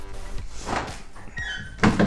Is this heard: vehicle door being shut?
yes